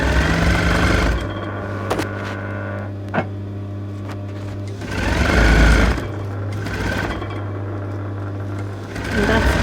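A sewing machine stitching the centre back seam of a dress runs in loud, close bursts of rapid mechanical whirring, separated by quieter pauses and a few sharp clicks.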